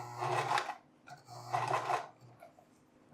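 A sewing machine stitches along the ridge of a cap bill in two short bursts of fast, buzzing whir, close and moderately quiet, separated by a brief pause with small handling noises.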